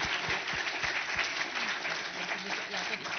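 Audience applause at an innovation award ceremony, a moderately distant, steady patter of many hands clapping that lasts a few seconds, with some voices faintly audible underneath.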